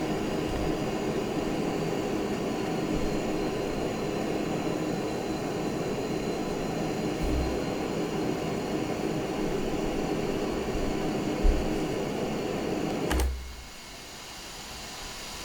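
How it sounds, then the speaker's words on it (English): A JF-17 jet in the DCS combat flight simulator drones with a steady, loud engine roar and broadband whoosh, then abruptly cuts to a much quieter, thinner hum near the end. "Really the plane could just be hovering around at this point."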